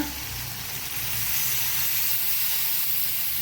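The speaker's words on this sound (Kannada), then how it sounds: "ಇನ್ನೀಗ ಇದಕ್ಕೆ ನೀರನ್ನು ಹಾಕೊಳ್ಳೋಣ" A steady, loud hiss of sizzling as water is poured into a hot pan of brinjal curry, continuing evenly without speech.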